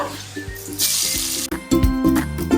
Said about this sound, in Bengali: তেল গরম হয়ে গেছে, এবার আমি পেঁয়াজটা দিয়ে দেবো।